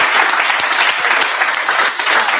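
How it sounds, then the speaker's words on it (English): A lively round of applause comes from the audience at a Tech Weekend startup talk. It is loud, continuous, close-sounding clapping with no pause across the short stretch. "let's give a round of applause for"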